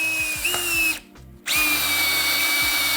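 A Milwaukee power drill runs steadily at high speed, briefly stops for a moment, then spins up again and keeps whirring loudly and close by.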